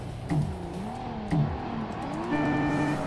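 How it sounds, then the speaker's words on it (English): Car engine in Forza Motorsport's Amateur/Z Cars Challenge, revving hard through repeated upshifts with the pitch climbing and dropping, then holding steady and buzzing on the rev limiter near the end. "Hit the rev limiter, but it's fine."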